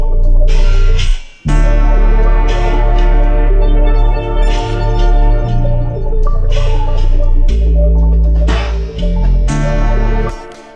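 A drum loop pitched up four semitones, played at halftime and compressed with a UAD compressor, runs loud and dense with a steady groove and a brief dropout near the start.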